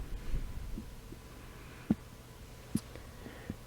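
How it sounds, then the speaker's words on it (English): Heartbeat effect in a fantasy tabletop roleplaying session: a few soft, widely spaced thumps over a low hum, faint and isolated with no voices. "And Damani, you almost hear a heartbeat in your ears."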